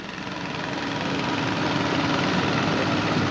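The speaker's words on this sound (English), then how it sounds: "Okay, Larry, that's a good-looking Gibson tractor there, too." A 1948 Gibson D2 tractor engine idles at a show with a steady, rumbling drone that holds constant and close throughout.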